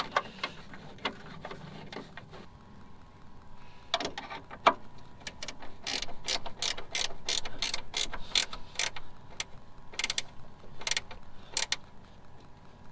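A ratchet clicks in quick bursts, tightening a bolt on a Lexus upper control arm, an adjustable RR Racing billet part, with soft mechanical creaks between the clicks.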